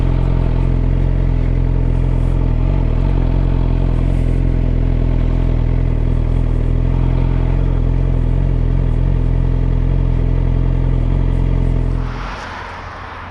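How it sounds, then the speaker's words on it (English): A dense, loud roar of passing vehicles on a busy main road, heard from the roadside, continuous rumble with some clatter, dropping off abruptly near the end. "I've had to pull up on quite a busy main road"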